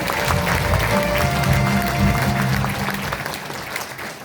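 A crowd at a Korean lawmaker's legislative report meeting claps together in a burst of applause, loud at first and then thinning out over a few seconds.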